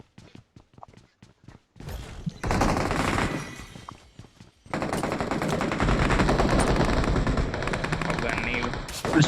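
Gunfire: a handful of isolated shots rings out first, then loud sustained bursts of rapid automatic fire fill most of the stretch, with voices faintly beneath.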